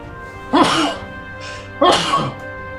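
Two loud sneezes about a second apart, each a sharp burst close to the microphone, with quiet background between.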